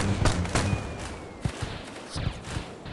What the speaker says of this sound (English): Over here we have some cannons all lined up. You press this button, they will all launch simultaneously.